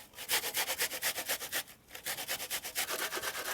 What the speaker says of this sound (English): then I'm going to grate in one onion